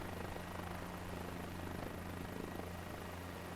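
A helicopter in a flight video game drones with a steady, dense rotor and engine roar, loud and constant over a low hum, with no voices.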